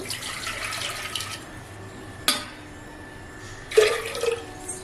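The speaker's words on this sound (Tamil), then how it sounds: "இப்போ நம்ம தண்ணி வந்து அளந்து ஊற்றிடலாம்" Measured water poured from a cup into a clay pot while making ragi koozh, a soft splashing pour, then a brief clink and a second short splash near the end, quiet and close with no talk.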